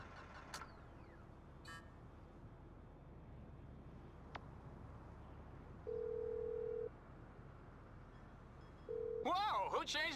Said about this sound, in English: who changed my ringtone?